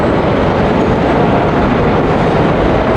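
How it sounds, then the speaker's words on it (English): Subway train in Lisbon, a loud continuous rumbling roar of wheels on rails, close and steady across the few seconds, nothing else heard. "I'm still at the subway though."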